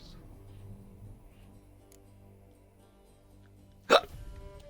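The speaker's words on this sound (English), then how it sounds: "Hiccup." A character in The Witcher 3 gives a single sharp hiccup near the end, loud and close, after a stretch of soft ambient game background.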